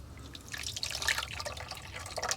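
Warm water poured into a bowl of yeast and sugar for beignet dough, a close, continuous splashing and trickling pour with bright liquid spatter, no voices.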